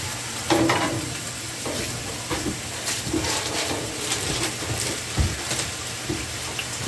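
Pastrami sizzles and crackles steadily on a Blackstone griddle while a spatula stirs and scrapes it in short repeated strokes, close and moderately loud with no voices.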